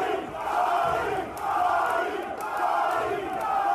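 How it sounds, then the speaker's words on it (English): A crowd of over 400 people roars at a live MMA fight, a dense and steady wall of cheering and shouting that swells and dips slightly over a few seconds. "Listen to that fucking crowd. They were roaring."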